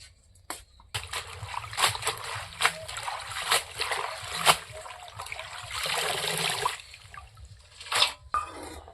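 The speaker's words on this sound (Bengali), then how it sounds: "পালং শাকটা বেচা হয়ে গেছে, এখন আমি ভালো করে ধুয়ে নেব। কলের পাড়ে ধুয়ে নিয়ে আসি।" Water from a tap splashing and trickling over fresh spinach leaves being washed by hand, uneven sloshes and drips at moderate distance, fairly faint.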